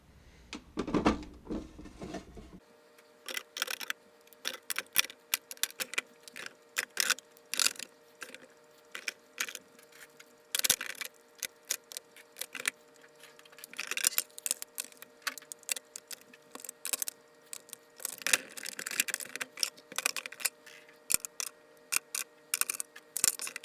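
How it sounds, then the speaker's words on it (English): Makeup products being put back into drawers: quick plastic clicks, clacks and taps of small cases and containers set down in irregular bursts, close by, with quiet pauses between and no talking. "now it's time to put all of these products back into their drawers"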